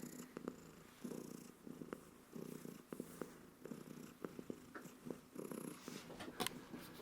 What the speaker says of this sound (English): This is our kitty, Yantos.